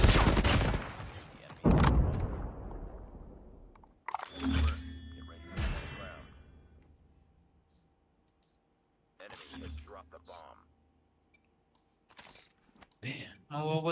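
Video game gunfire: loud, sharp bursts and rattling volleys arrive in separate clusters with quiet gaps between them, and mechanical clicks fall in between.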